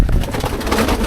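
Pigeons cooing inside an enclosed park tunnel, soft overlapping coos against a steady, echoing background hum, close and continuous throughout.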